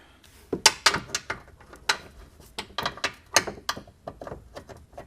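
A regular socket on a really short extension turns a bolt on a 2002-06 MINI Cooper trailing arm, giving a fairly faint, quick series of ratcheting clicks and metallic ticks in irregular bursts.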